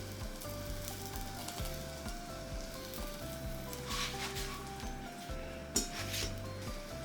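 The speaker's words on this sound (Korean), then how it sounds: "식빵에 버터를 발라 양면을 노릇하게 구워주세요." Buttered white sandwich bread toasts in a pan, a steady soft sizzle and frying hiss running throughout, with faint background music and a brief clink near the end.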